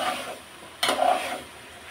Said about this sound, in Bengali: এখানে শিমগুলো আমি একদম কষিয়ে নিচ্ছিলাম, একটু নাড়াচাড়া করে দিচ্ছি যাতে তলায় লেগে না যায়